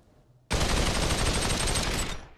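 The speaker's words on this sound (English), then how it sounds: "Oh, I'm getting shot again." Sustained rapid automatic gunfire in the VR shooter Population One, a loud, dense burst starting abruptly and running for about a second and a half before trailing off.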